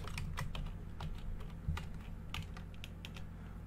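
Fast typing on a computer keyboard while coding in Python, a close, even patter of key clicks with a few heavier strokes and no talking.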